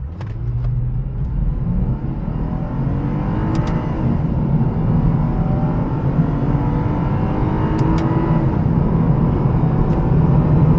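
A 2008 Lexus IS250 accelerates hard from a standstill during a 0 to 60 run, heard from inside as a loud continuous engine roar and road rumble, with rising pitch sweeps as it climbs through the gears.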